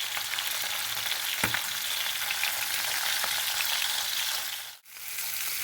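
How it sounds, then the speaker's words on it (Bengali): Pieces of rohu fish fry in hot oil, giving a steady, loud, close sizzle that runs throughout, with a brief stir or clatter partway through and a short dip near the end. "প্রথমে রুই মাছগুলো আমি ভালো করে ভেজে নেব"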